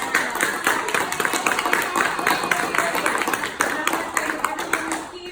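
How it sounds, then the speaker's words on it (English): Audience applause at a scholarship reception honoring recipients, a dense, steady burst of clapping from a crowd filling the room, holding at even loudness throughout before easing slightly at the end. "let's give them another round of applause"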